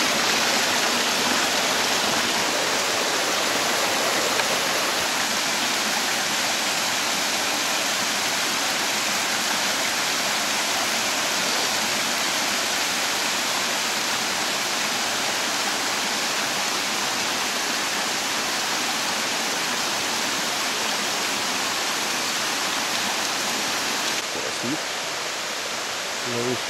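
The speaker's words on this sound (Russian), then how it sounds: "Водопад целиком." Whole waterfall near the Sochi arboretum in Abkhazia, a steady full-band roar of falling water continuing loud and unbroken from start to end, with a small change in tone near the close.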